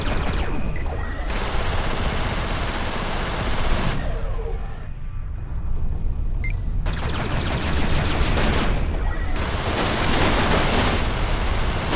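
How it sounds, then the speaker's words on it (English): Rapid, dense Gatling gun fire from ships in the space shooter game Everspace, loud bursts of continuous rattling separated by brief gaps of quieter background hum. "use the Gatling gun to inflict greater hull damage"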